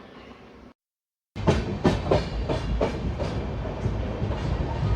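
The 07446 Lingampalli to Kakinada Town Special Express, a passenger train, pulls out of Kovur station. After a brief silence, a loud, continuous rumble sets in with rhythmic clickety-clack wheel beats close by.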